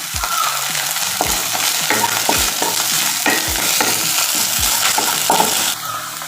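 Sliced onion, green chillies and curry leaves fry in oil for Kerala-style fish pollichathu, with a constant sizzle under regular scraping strokes of a spoon stirring the pan, loud and close.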